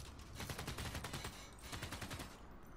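Rapid gunfire from units attacking barbarians in the strategy video game Civilization VI: dense, rhythmic volleys of shots crackle steadily for nearly three seconds, close and loud, with no one talking.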